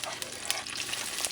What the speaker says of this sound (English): So I'm going to start with the onions. Saute for about maybe a minute.